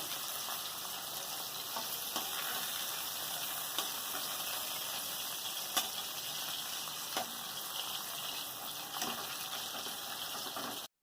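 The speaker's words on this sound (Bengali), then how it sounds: "অল্প আঁচে দিয়ে আস্তে আস্তে করে এগুলো ভাজতে হবে" Continuous soft sizzle of prawn-stuffed ash gourd leaf parcels frying in oil over low heat, with a few faint clicks and scrapes from the pan throughout.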